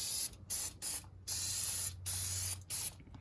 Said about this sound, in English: just spray it with some brake clean